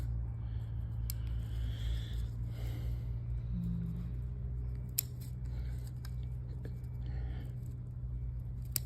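Scissors snip leaves and buds off a plant in quiet sharp clicks, several spaced cuts over a steady low hum, with soft murmured speech nearby.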